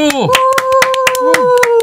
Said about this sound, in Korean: 박수를 쳐야지, 박수를. 박수!